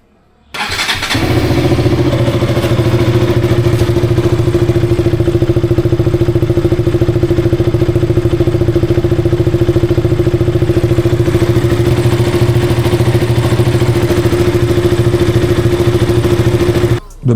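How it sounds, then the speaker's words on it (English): A KTM RC 200 motorcycle with its stock air filter, a 2015 model, fires up and settles into a steady, loud idle close by. The engine hum and clatter stay even for about sixteen seconds before cutting off, with no talking. "let's see how the bike sounds with the stock air filter"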